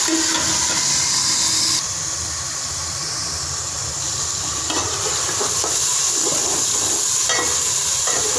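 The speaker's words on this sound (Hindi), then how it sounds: "हल्का सा पानी डालेंगे।" A steady loud sizzle from a frying pan of chicken pulao base, briefly shifting and settling as a little water hits the hot oil, with occasional stirring scrapes.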